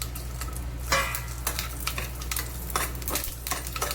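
Green chilies frying in hot oil in a pan for a Marathi village-style chicken curry, a steady close sizzle broken by scraping and clinking as a spatula stirs them, with no one speaking.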